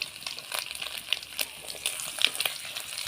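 Five-spice tempering and lentil dumplings (bori) frying in hot oil in a wok, giving a light continuous sizzle broken by sharp, scattered crackles and pops, with no voices.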